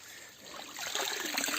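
Cold stream water trickles and splashes up close as a shirt is dunked into it outdoors in the bush near Fuzhou, China, the steady rush growing a little louder partway through.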